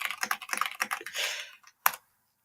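Quick bursts of typing on a computer keyboard entering a ChatGPT query, a rapid run of close key clicks ending in a single final keystroke, with no voices.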